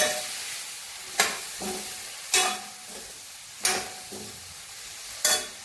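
Hog plum pickle being stirred in a pan after asafoetida powder goes in, giving four or five spaced scraping strokes of a spoon over a faint steady sizzle, close and alone with no talk.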